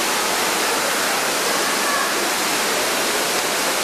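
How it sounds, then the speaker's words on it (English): A waterfall at Disney World roars as a loud, steady, dense rush of falling water, continuous and unbroken throughout. "See that waterfall, babe?"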